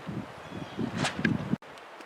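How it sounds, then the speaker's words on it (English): Strong outdoor wind buffets a microphone on an off-grid homestead, giving low gusty rumbling and rustling that surges unevenly before cutting out briefly. "The wind is terrible."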